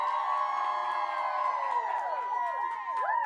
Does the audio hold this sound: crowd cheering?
yes